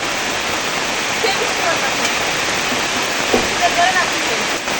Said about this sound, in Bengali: বৃষ্টির কারণে কিছু শোনা যাচ্ছে না